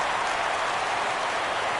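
Crowd cheering in the baseball game MLB The Show 17 as a full 3-2 count comes up in the ninth, a steady, even roar of stadium noise that fills the short moment without a break.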